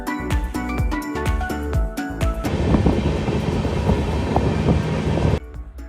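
A train leaving Sabarmati railway station for Ferozepur gives rhythmic wheel clacks over the rail joints, then a loud, steady rolling rumble, heard close by from on board.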